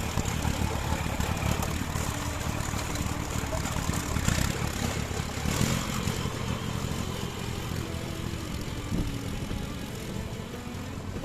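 A tracked crawler vehicle engine runs steadily and loudly throughout in a farm garden, a rough low rumble with mechanical clatter, no talking.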